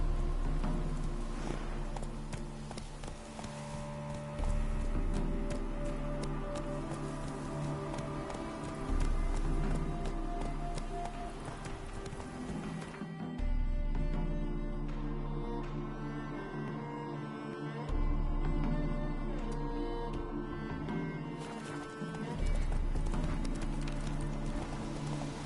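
Horse hooves clip-clopping steadily in The Witcher 3, a rhythmic galloping beat over a continuous game music and ambience bed, fairly loud throughout.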